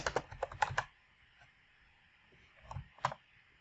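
Fingers type a short snippet shortcut on a computer keyboard while coding in VS Code: a quick burst of close, crisp key clicks, a quiet pause, then a few more taps, the last one firmer, like the enter key.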